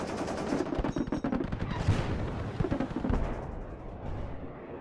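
Machine gun fire from the WARNO war strategy game, with a BTR armored vehicle involved: rapid, loud bursts of automatic gunfire with scattered heavier shots, rattling on and off before fading out.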